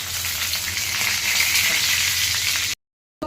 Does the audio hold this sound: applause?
no